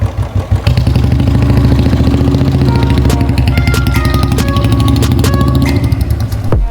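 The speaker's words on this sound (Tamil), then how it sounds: "அந்த அந்த இன்ஜினோட சவுண்டு செம்மையாக இருக்குது" A vintage Royal Enfield Bullet 350 motorcycle, restored, runs close by with a loud, steady, heavy thumping beat and a metallic clatter over its low exhaust pulse, with no one speaking.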